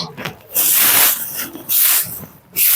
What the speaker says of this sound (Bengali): দেখুন আমি ঝাঁট দিচ্ছি সুন্দর করে ঝাঁট